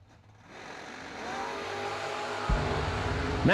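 Drag-racing cars, a 1988 Chevrolet Camaro and another Chevy, launch off the line. Engine roar swells steadily and then surges sharply into a loud, sustained rush at close range.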